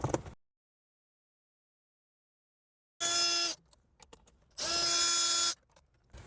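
Power tool whirring in two steady bursts of about a second each while 10mm bolts come out of a Lexus GX dashboard center piece, with a few light clicks in between and silence at the start.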